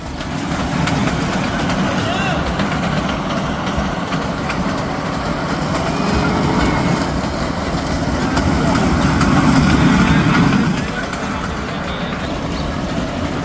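A low, steady engine rumble of a small amusement ride train at a fair runs continuously, with people's voices mixed into the busy background.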